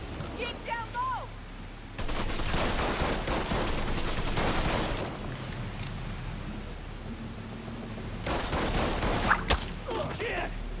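Gunfire in the video game Mafia III comes in heavy bursts, a sustained volley near the start and another flurry later, with shouted voices heard between shots.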